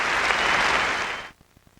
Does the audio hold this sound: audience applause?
yes